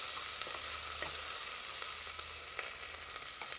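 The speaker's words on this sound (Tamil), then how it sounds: "வெங்காயம் பச்சை மிளகாய் கொஞ்சம் வதங்க விடுவோம்" Onions and green chillies sautéing in a pan for tomato rice, with a constant bright sizzle and faint stirring taps, close and steady throughout and slowly fading a little toward the end.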